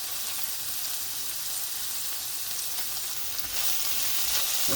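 Spices for bhindi do pyaaza cooking in a pan give a dense, steady hissing sizzle that grows slightly louder toward the end, close and unbroken, with no voices.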